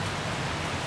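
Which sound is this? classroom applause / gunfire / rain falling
rain falling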